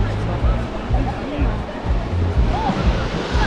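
Pacific Ocean waves wash onto the beach at Monterey, California, in a steady, roaring surf with rolling swells and a low rumble, while faint crowd voices murmur in the background.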